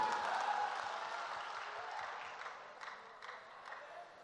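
An audience at a mushaira bursts into applause, a dense crowd of clapping that starts strong and gradually fades out over a few seconds.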